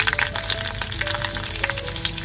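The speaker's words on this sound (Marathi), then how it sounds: "फोडणीसाठी सर्वात पहिला आपण राई घालून घेतो एक चम्मच सर्व लसणी घालतो" Mustard seeds and garlic pieces fry in hot oil for a tempering, a steady loud sizzle with crackling pops and occasional stirring, close up and without speech.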